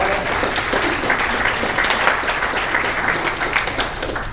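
Conference audience at a Pompe disease meeting breaks into sustained applause, a thick, even wash of many hands clapping at a fairly loud, steady level.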